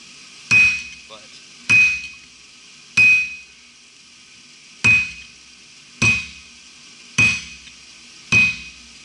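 Blacksmith's hammer striking hot steel while forging a diamond finial on the high sides of the piece, seven loud ringing blows at a steady, roughly one-second pace, each leaving a short metallic ring before silence.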